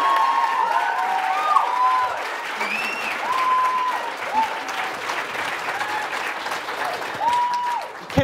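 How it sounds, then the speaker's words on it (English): A theatre audience at a feminism talk at the Appel Salon in Toronto applauds steadily and loudly for the full stretch. Scattered cheers and whoops rise above the clapping. "We have one more round of applause for Roxane Gay, Garvia Bailey"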